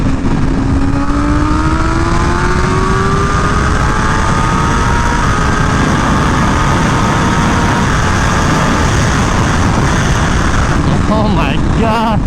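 A tuned BMW M1000R motorcycle roars under hard acceleration while being ridden, its loud engine note climbing steadily through the gears with heavy wind rush, and a rider's voice briefly heard near the end.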